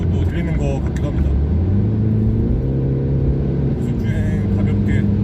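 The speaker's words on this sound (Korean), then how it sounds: "실제 엔진음으로 또 들리는 것 같기도 합니다." A MINI Countryman S ALL4 cruising at high speed in sport mode gives off a steady low engine drone with rising tonal whine, heard from inside the cabin beneath a talking voice.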